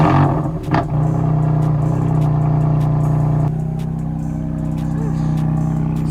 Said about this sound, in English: I'm gonna give you guys a little quick cold start just to see how the car sounds before.